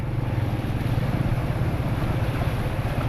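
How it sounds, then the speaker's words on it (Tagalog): Floodwater surges and splashes heavily across a flooded city street as large vehicles plough through, giving a continuous loud, churning rush of water close by with no talk over it. "Oh, lakas ng ampas ng tubig ah."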